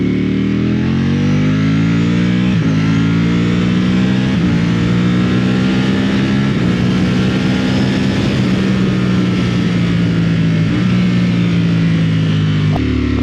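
Ducati V4R motorcycle engine in street mode revving loudly and continuously up close, the pitch rising through several quick-shifter upshifts with brief dips between gears.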